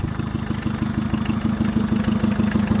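The diesel engine of a hydraulic machine, revived after sitting a long while, runs at a steady idle with a close, loud rhythmic clatter.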